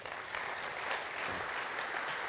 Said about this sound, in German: Begrüßen Sie mit einem Applaus den Regierungsrat Marc Mächle.